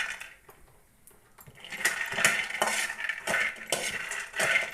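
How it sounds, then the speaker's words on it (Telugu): Peanuts roasting in a pan for a stuffed brinjal masala filling, a dry rattling and clinking as the nuts are stirred, quiet at first, then repeated bursts of scraping and tumbling, close and steady. "ఈ పల్లీలతో పాటే పోసినాం అనుకో అవి తొందరగా మాడతాయి ఏదైనా తొందరగా ఏదో అందుకనే పల్లీలే ఫస్ట్ వేయించుకోవాలి"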